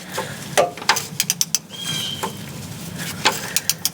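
Ratchet wrench tightening the starter motor bolts on a GM Vortec 5.7L truck engine, heard as several short bursts of quick mechanical clicking with pauses between strokes, close and moderately loud.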